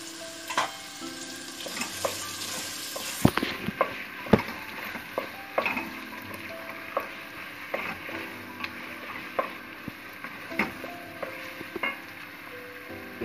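Vegetables with freshly added green pepper fry in a pan, giving a soft sizzle under repeated clicks and taps of stirring, heard up close with no talking.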